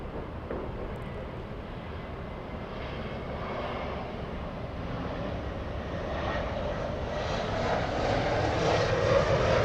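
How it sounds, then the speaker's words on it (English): An Asiana airliner passes at LAX, a steady broadband engine roar that builds slowly and grows louder toward the end, heard alone at a moderate distance. "there goes the Asiana"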